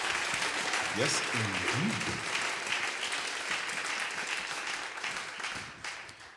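Clapping and cheering from a live jazz concert audience in New Orleans, sustained applause that fades gradually, with a brief spoken voice near the start.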